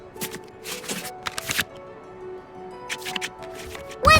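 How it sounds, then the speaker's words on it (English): Cards being shuffled in the Genshin Impact digital card game, a few quick bursts of riffling card sounds separated by pauses, ending in a brief sharper flourish. "select any number of cards in our hand to shuffle back into the draw pile"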